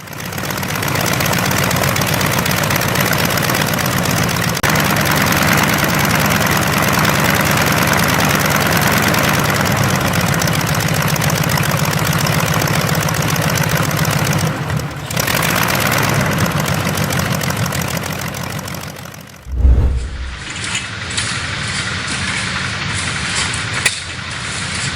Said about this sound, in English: the military also ruggedized this air-cooled radial to power ground armor